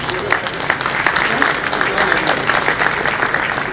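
An audience at an academic conference session breaks into full, dense applause after a paper presentation, many hands clapping loudly and continuously, with a voice speaking faintly beneath the clapping.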